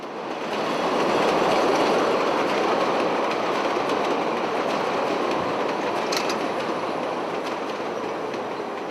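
A Chicago subway train runs along elevated tracks between close-set buildings, a loud sustained rumble with rhythmic wheel clatter that swells early and holds, and a brief metallic squeal near the end.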